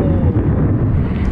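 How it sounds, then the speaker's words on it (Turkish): Deep, loud thunder rumbles during a rainy road-bike ride in Turkey, a continuous low roar mixed with heavy wind buffeting on the microphone for the whole brief moment. "Hava sağlam gürlemeye başladı."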